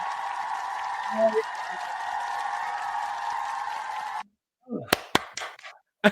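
Applause sound effect played during a podcast chat, a steady wash of clapping and cheering lasting about four seconds before cutting off abruptly, followed by a few sharp clicks and short bursts of voice.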